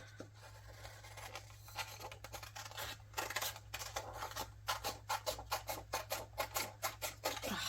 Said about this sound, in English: Ugh, I love these scissors.